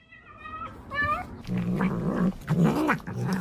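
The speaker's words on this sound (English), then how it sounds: "It's the cat eating the red pepper." A cat growls and yowls in low, rumbling bursts while chewing a red bell pepper, with a few higher whining cries at the start, close and fairly loud.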